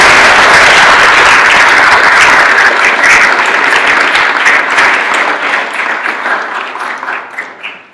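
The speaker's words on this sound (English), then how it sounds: "A warm round of applause." A lecture audience gives a loud, full round of applause that starts at its peak and slowly thins out, with scattered claps still audible as it fades toward the end.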